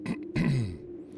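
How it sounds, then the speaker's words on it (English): A single short, throaty cough, close and fairly loud, with a rough, gruff start followed by a brief fading rasp. "Or coughing, rather."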